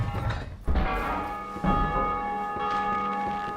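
Game church bell tolling in a let's-play, with sustained metallic harmonic ringing and two fresh strikes about a second apart, each decaying under the next, loud and close with no talk.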